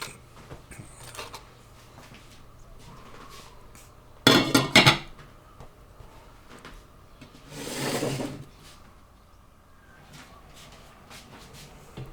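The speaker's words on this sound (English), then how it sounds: "I'm just going to pop the bowl in there, stick the lid on." A sudden rattling clatter of a pudding bowl set down in a metal steamer, then a softer scraping clunk as the lid is fitted on, amid quiet surroundings.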